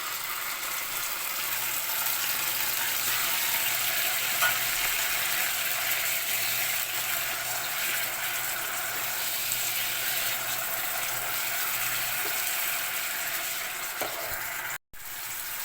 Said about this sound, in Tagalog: sangkotsa lang muna natin mga kaibigan hanggang sa mag light brown yung ating bawang